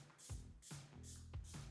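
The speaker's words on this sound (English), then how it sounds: "I'm gonna spray my face again with the Dalva Double Serum Spray." A facial mist, the Dalva Double Serum Spray, hisses out in three quick bursts close by, each a short airy spritz spaced evenly apart alongside soft handling noises.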